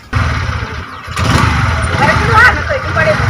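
A motorcycle engine cranks and catches, then runs at a steady close-up idle with a people talking over it.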